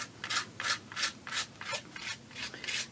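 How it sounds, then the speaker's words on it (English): Paint mixed with gesso scraped across paper with a palette tool, steady close rasping strokes repeating in an even rhythm with no voices. "I'm just going to scrape it across here"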